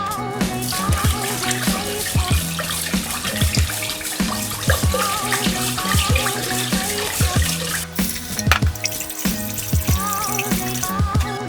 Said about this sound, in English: I then rinsed it with fresh water 3 times just to remove most of the starch.